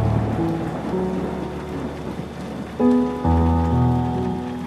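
Steady rain on a surface with a low thunder rumble swelling midway, under sustained musical tones, full and close.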